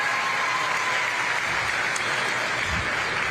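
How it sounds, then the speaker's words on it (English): Spectators at a county youth fair livestock show give senior showmen a steady round of applause, a moderate, even wash of clapping that continues throughout with no voices on top. "Let's give them a nice round of applause"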